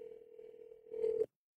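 A steady telephone dial tone hums for over a second, briefly rising with a burst of extra noise near the end before cutting off abruptly into silence.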